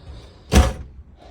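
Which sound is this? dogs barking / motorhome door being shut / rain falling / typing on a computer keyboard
motorhome door being shut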